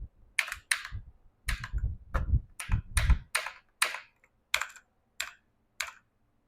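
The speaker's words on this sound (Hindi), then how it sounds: "यहाँ पर हम नेम टाइप कर देते हैं।" Keys clatter on a computer keyboard as a name is entered in a web design practical, a run of about a dozen crisp, close clicks, denser at first and then spaced out, with no talking.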